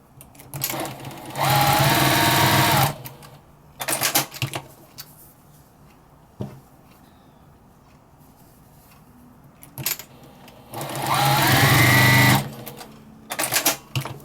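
A sewing machine stitches quilted potholder patches in two loud bursts separated by a long quiet gap, with short stuttering starts and stops from a machine that is struggling to start properly.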